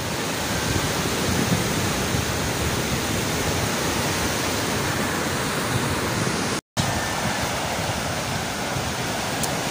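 Morning waves wash onto a beach shore in a continuous broadband roar of surf, steady and close, with a brief dropout partway through and no talk.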